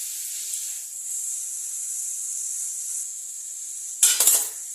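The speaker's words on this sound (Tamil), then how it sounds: "நல்லா வதங்கட்டும் வெங்காயம்." Onions sautéing in a pan with fennel seeds for egg keema, giving a steady, soft high sizzle, followed near the end by a short clatter of a utensil against the pan.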